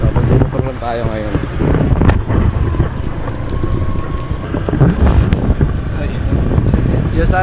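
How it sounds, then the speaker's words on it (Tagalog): A small fishing boat motor runs on open water, droning continuously under heavy wind buffeting, while people talk over it. "So mag-motor lang tayo ngayon."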